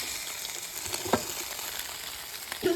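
Bones for bone broth sizzle steadily in a hot pan while being turned, with a continuous frying hiss, a sharp clack of bone or utensil about midway and another knock near the end.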